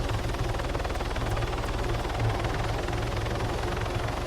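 A video game helicopter drones steadily with a fast rhythmic rotor thump and a whining engine tone, loud and continuous and heard alone without talk.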